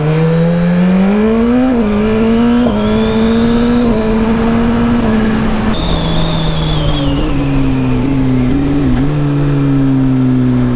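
An old tuned car's engine revs hard and loud, its pitch climbing, dipping and swelling again in long sweeps over a constant roar, with no voices.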